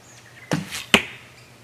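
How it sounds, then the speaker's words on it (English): Two sharp, close impacts about half a second apart as a target-tip carbon fiber arrow strikes a target, each a loud snapping thud with a brief ringing tail, no voices. "I'm gonna shoot a target tip carbon fiber"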